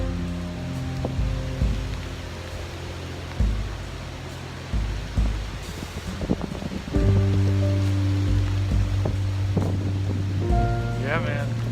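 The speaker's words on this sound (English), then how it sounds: "Can you hear the wind?" Wind gusts rush through the Great Smoky Mountains along a hiking trail, a broad, steady outdoor roar with rising and falling surges, while a person talks over it in places.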